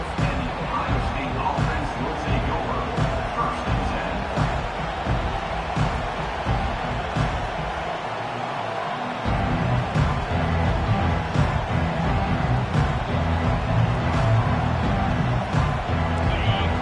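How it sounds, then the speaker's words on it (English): Loud, dense stadium crowd roaring at a Buckeyes vs Crimson Tide football game, a steady wall of cheering with a brief dip near the middle before it surges back, continuing without any speech. "This crowd bringing an ear-splitting welcome to their visitors"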